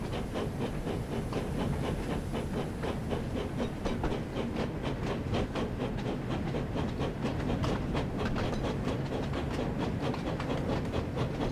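Train engine running at night in a snowy winter setting in the Thomas and Friends: Wonders of Sodor video game: a steady, loud hiss with a fast, even clickety-clack rhythm that continues throughout, with no talk.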